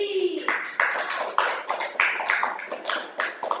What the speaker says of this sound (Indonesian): Ya, beri aplaus lagi.